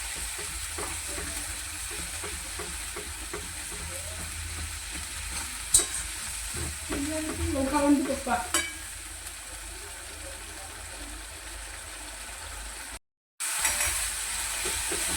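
Jackfruit vegetable cooks in oil in a pan, a low steady sizzle broken by close stirring scrapes and clinks of a spoon, with a brief cut of silence near the end.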